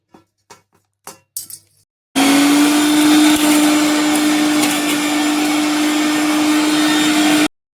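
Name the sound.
mixer grinding coconut, dal and tomato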